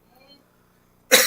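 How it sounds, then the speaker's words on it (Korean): A single sharp, loud cough bursts out at the end after a near-silent stretch with faint murmuring, during a church service. "이렇게 기침이 자주 나옵니다"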